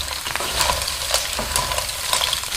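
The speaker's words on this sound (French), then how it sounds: "Je mélange bien pour que le pain, l'ail et le persil se répartissent bien dans les moules." Mussels with bread, garlic and parsley are stirred in a hot sauté pan, giving a steady close sizzle with soft scraping and clinks on top.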